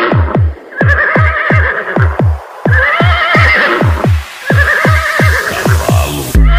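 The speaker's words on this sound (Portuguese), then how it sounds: "Cavalo." Horse neighs and whinnies chopped into a pounding funk automotivo beat, the pitched whinny cries repeating rhythmically over heavy, punchy bass hits, loud and upfront throughout.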